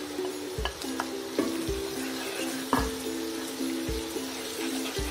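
Onion, garlic, ginger and green chili sizzle steadily in a pan, with a constant frying hiss broken by a spoon scraping and clinking against the metal every second or so.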